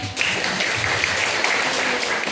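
Applause from the crowd at an Indonesian Fatayat NU branch conference, a loud, steady wash of clapping filling the room for a couple of seconds.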